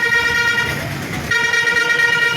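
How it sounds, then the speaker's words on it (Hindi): A bus horn honks in a long, loud, held blare on a busy station road, cutting out briefly and sounding again, with traffic and vehicle noise underneath. "देखो ये बस का हॉर्न"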